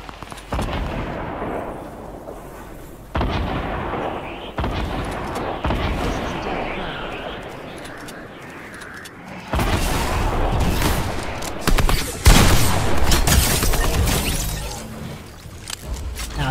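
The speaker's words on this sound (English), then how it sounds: "Since when do launchers explode on impact?" Launcher blasts and gunfire in a Fortnite match sound as repeated loud booms and rough bursts of weapon fire, with a voice talking over the game audio throughout.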